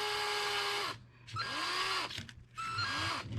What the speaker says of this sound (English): just run the drill to hollow it out and pull it out